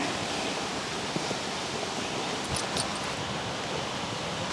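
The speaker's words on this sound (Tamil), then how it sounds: "இப்போ தண்ணி நல்லா கொதிக்குதுங்க" Water at a rolling boil in a cooking pot, heated for lentils, giving a steady, dense bubbling hiss that stays even and unbroken throughout.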